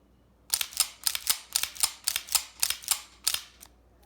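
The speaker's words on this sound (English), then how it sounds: "move the slide back 5 or 6 times and dry fire it" A Kimber Stainless Target II 1911 pistol in .45 ACP is racked and dry fired over and over, giving about a dozen sharp metallic clacks and snaps in a steady rhythm, close and loud with no talk.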